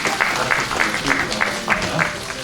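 Applause from the audience at a Korean drama production press event during a photo session, a steady rippling clatter of many hands, moderately loud and continuous.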